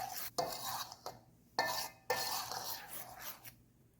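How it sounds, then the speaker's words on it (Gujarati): Gram flour with ajwain and Kashmiri red chilli powder being mixed for garlic sev, heard as close, quiet scraping and clinking of a spoon against a bowl in repeated short bursts with pauses between. "બધું સરસ રીતે મિક્સ કરી લઈશું"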